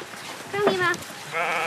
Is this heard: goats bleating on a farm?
yes